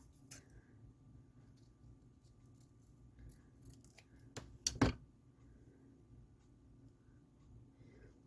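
Scissors snip a few times while trimming the back of a metal washer necklace cut-out, quiet and close, with one sharper cluster of cuts standing out against a faint background.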